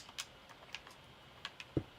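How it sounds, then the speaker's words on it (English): Sparse, soft computer mouse and keyboard clicks while playing Minecraft Bedrock Edition, a handful of quiet, irregular taps close to the microphone with faint background hiss. "I hope my clicking sounds aren't like incredibly loud."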